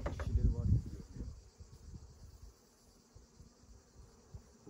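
Honey bees buzz steadily inside an opened hive during a summer honey harvest, a low continuous drone under a louder handling clatter at the start, close and moderately faint.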